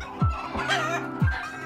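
Hens kept alongside goats on a farm cluck close by in short, repeated calls, with a couple of sharp downward-sliding clucks standing out over a low steady background.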